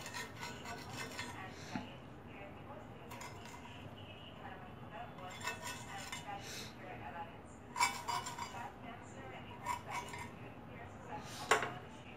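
Steamed chitoi pitha rice cakes are lifted out of a pan: metal utensils scrape, rub and clink against the cookware in scattered bursts, moderately faint, with a few sharper clinks toward the end.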